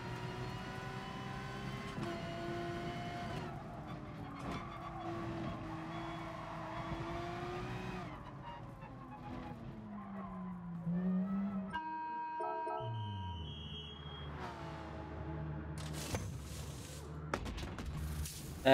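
A Porsche race car in GT Sport, its engine droning and rising through gears with pitch sweeps on braking and downshifts, fairly quiet, with a sudden gap and then renewed acceleration.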